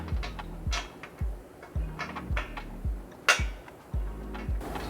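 Hand tools work bolts during a skid plate install on a fifth-generation Toyota 4Runner, a series of short metallic ratcheting bursts, close and moderately loud, repeating at a steady irregular rhythm with no talking.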